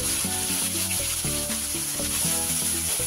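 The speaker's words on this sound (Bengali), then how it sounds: "ফোড়নটা একটু নাড়াচাড়া করে তাতে অ্যাড করব 2 চামচ মতন পেঁয়াজ বাটা" Onion paste frying in hot oil with tempering spices in a kadai while being stirred, a steady loud sizzle with a rhythmic scraping under a droning musical background throughout.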